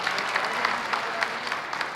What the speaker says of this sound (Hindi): जोर से ताली बजाओ यार, इतनी अच्छी बात बोल रहा हूं।